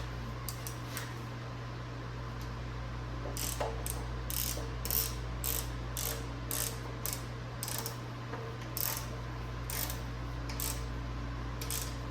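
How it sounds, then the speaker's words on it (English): A ratchet wrench tightens small bolts during a truck short box swap, with repeated rapid clicking bursts over a steady low mechanical hum, close and fairly loud, with no talking. "now you want to tighten all the smaller bolts"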